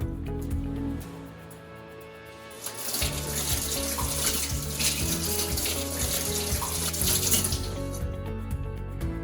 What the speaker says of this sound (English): we always have to wash our hands for at least 20 seconds.